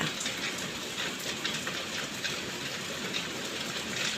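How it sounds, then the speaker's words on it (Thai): The first rain of the year falls in Ayutthaya, Thailand: a dense, steady hiss of rain pattering on surfaces, even and continuous throughout, with no voices. "ฝนแรกนะคะ ฝนแรกของปี สองห้ากแปดนะคะ ที่อยุธยา"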